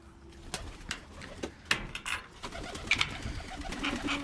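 Birmingham Roller pigeons coo softly inside a breeder loft, low murmuring calls among scattered taps, shuffles and wing flutters, close and fairly quiet with no speech.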